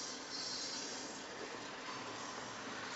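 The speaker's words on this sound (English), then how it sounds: "track inspection train." A Norfolk Southern track inspection train rolls past as a steady, broad rumbling roar with a faint hiss, heard from some distance at an even level throughout, no voices.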